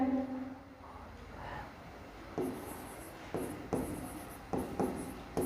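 Pen or chalk writing out a quadratic polynomial solution, a quiet stretch followed by several short scratchy strokes and taps in uneven bursts, close but faint.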